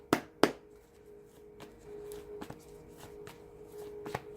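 Tarot cards shuffled by hand, two sharp riffling bursts near the start followed by softer, scattered card flicks and taps in a quiet room.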